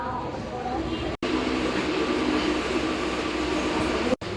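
A MEMU local train on the Guntur to Repalle line rolls along with a steady, loud interior rumble of wheels and motors in a mostly empty coach, broken by two abrupt brief dropouts.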